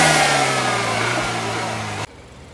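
A BMW 320i M Sport's engine revs loudly up close, a steady mid-pitched roar that sustains and then cuts off abruptly near the end, leaving faint room noise and no talking.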